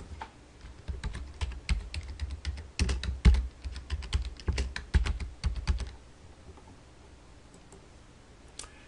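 Typing on a computer keyboard, a quick run of close, crisp key clicks for about six seconds, then stopping into quiet.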